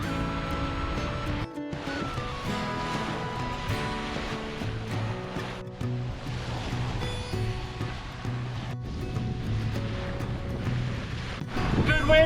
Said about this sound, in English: Good wind today as always.